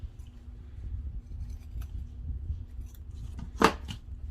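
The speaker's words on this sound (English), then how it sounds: "So now we are going to cut these so that they are nice and even." Scissors trim the ends of a farmhouse bead garland: faint handling rustles, then one sharp, close snip near the end.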